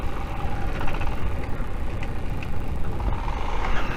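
A car engine runs steadily while the driver fights to shift into first gear on a Dartmoor lane, a close, continuous low rumble with no clear gear clunk.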